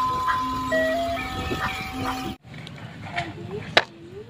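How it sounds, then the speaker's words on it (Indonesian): An ice cream truck plays its jingle: a bright, tonal melody of held notes over background noise for about two seconds. It then cuts off, leaving quieter ambient sounds and a brief sharp sound near the end. "Wadidaw, ini ada mobil es krim."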